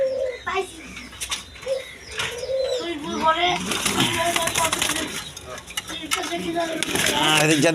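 High-flying pigeons coo softly while a person talks nearby and lifts them from a coop, with rustling and clattering handling noises growing busier toward the end.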